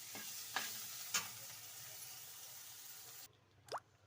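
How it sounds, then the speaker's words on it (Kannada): Cooked rice is stirred into vangi bath in a pan, giving soft scraping and clattering spoon strokes over a faint sizzle, with a few quick scrapes, a pause, then one last stir. "ರೈಸ್ನ ಮಿಕ್ಸ್ ಮಾಡೋಣ ಇದರಲ್ಲಿ."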